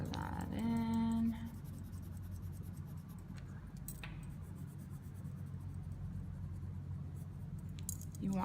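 A pencil crayon is pressed firmly against paper as a box is coloured in, giving a soft steady scratchy stroking that runs through most of the stretch, close up, with a brief squeak near the start.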